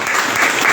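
A brief burst of dense, close audience clapping greets area manager Vivek at an IMC direct-selling business gathering for a mega Ayurvedic centre, steady and alone.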